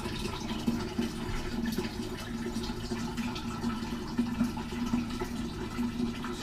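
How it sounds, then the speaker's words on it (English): Water is poured steadily into a vessel for homemade kombucha, making a continuous splashing, gurgling stream at close range with no talk. "So we're gonna add the water. I'm gonna bring it right up to that water line."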